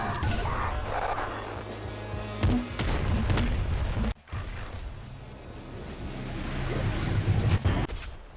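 Gunfire in the video game Nuclear Throne: dense, rapid shots and mechanical clatter fill the mix, cut by one brief sharp pause before the firing resumes.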